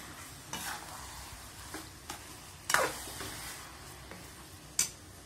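Carrot halwa stirred and roasted in a pan, a soft sizzle under occasional scraping strokes of a spoon against the pan, quiet and close.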